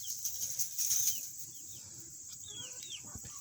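Chickens in a coop bedded with fresh dusting of diatomaceous earth cluck softly and flap their wings in a brief burst, close by, with a faint high electrical whine running underneath.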